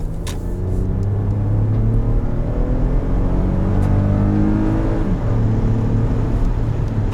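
A 3.6 liter V6 engine in a 2018 Toyota Highlander XLE rumbling and revving up, its pitch rising and settling in a steady, loud, close drone with no voices.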